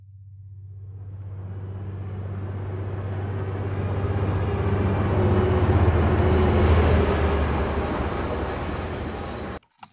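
A train sound effect from a transportation sound library: a heavy low rumble that builds steadily, swells to its loudest midway as the train passes close, then cuts off abruptly near the end, with no talk.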